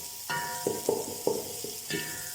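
Garlic frying until brown in a pan, with soft sizzling under repeated scraping and stirring strokes that come in irregular bursts, close up and without speech.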